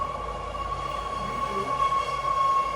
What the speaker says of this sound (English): The train's passing by.